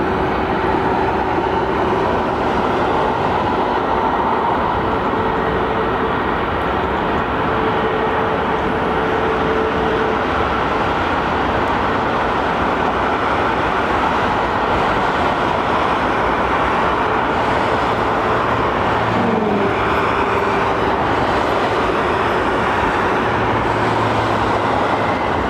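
A jet airliner takes off from Heathrow bound for Delhi, its engines a steady, broad roar that holds without a break for about 25 seconds and sounds fairly distant.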